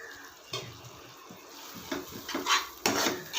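Spoon stirring and scraping thickening cow's milk khoa in a pan over low heat, with irregular rubbing strokes that grow busier and louder toward the end, close up and without talk.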